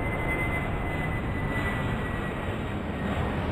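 An aircraft taking off in the video game Airport Madness 4, a steady, moderately quiet engine roar and rumble that stays even throughout with a faint high tone above it.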